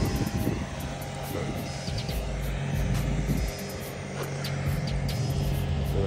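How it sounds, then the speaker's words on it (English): Cooling fans whir inside a Maserati GranTurismo, a steady airy drone with faint tonal whine and low rumble that holds throughout, with a voice briefly in the background. "we hear a lot of fans in this car"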